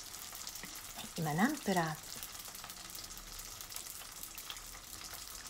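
Vietnamese-style spring rolls deep-frying in oil, added a few at a time so they don't stick, give a faint, steady hiss throughout, with a brief spoken phrase near the start.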